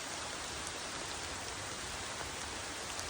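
Steady rain falls on an evening along the Appalachian Trail, a dense, even hiss that continues without a break and without any voices.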